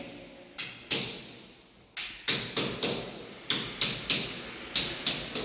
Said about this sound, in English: The welder is now knocking holes in the tiling so he can fix the handrail.